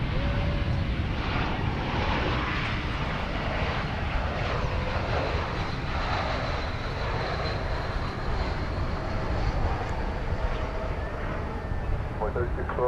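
An Airbus A321 on the runway at DFW Airport gives a steady, broad engine roar that holds for the whole stretch, with voices talking over it.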